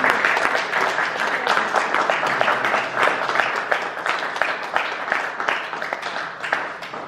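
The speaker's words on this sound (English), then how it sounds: "So I think you should give him a clap." Congregation applause during a Sunday Eucharist service in a church, with individual claps audible throughout, strongest at the start and tapering gradually.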